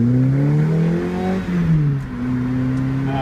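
Lotus Elise exhaust note from a small, light sports car, a steady engine drone that dips briefly around mid-clip and then holds again, heard alone without talk.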